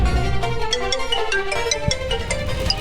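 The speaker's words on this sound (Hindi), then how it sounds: "तुम्हारा फोन बज रहा है" A melodic phone ringtone plays steadily, a bright repeating electronic tune with no voices over it.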